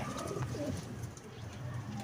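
Pigeons, a tidy pair of Teddy pigeons, coo in low repeated murmurs through a steady background, close and moderately loud, with no one speaking.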